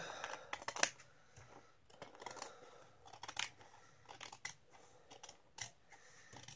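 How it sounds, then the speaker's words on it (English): Scissors trim felt to fit a handmade journal cover, a run of quiet, close, irregular snips and crisp cuts spaced through a hushed room with no voice. "I'm just going to trim the felt to fit the cover."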